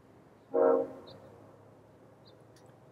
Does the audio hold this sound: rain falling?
no